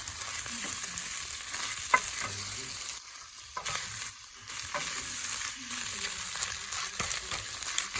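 Eggs fry in a pan alongside bread and a hotdog, giving a steady, even sizzle throughout with occasional soft scrapes and taps from stirring, no voices.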